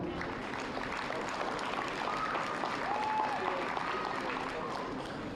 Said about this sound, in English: Please put your hand together for Kendall